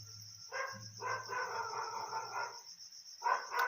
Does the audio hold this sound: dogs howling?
yes